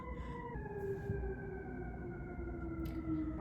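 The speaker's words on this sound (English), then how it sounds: "there's sirens going on right now" A fire truck siren wails in slowly falling, drawn-out tones, faint and distant, over a low steady background rumble indoors.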